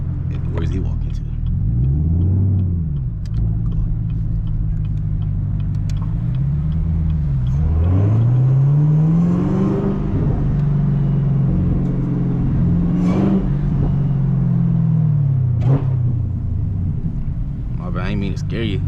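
Chevrolet Camaro ZL driven at dusk around a campus, the engine rumbling steadily with a rising and falling supercharger whine as the car speeds up and eases off, close and loud, with faint voices now and then.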